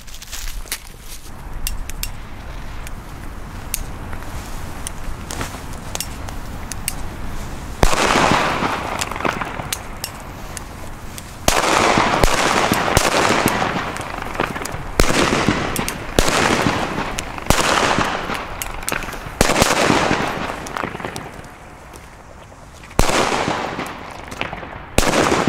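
Loud firecrackers, China Böller, burst in irregular volleys of sharp cracks, with short pauses between clusters and a steady crackle of smaller pops in between.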